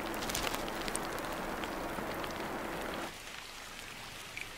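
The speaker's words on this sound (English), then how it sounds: "That call comes with the first of the monsoon rains." Monsoon rain falls steadily on Christmas Island forest near cliff tops, a dense, close hiss of drops that cuts to a much lighter patter partway through.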